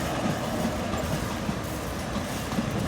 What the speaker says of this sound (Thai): ตอนนี้ขบวนกำลังจะผ่านจุดตัดบริเวณด้านเหนือของ ชุมทางหนองประดุกนะครับ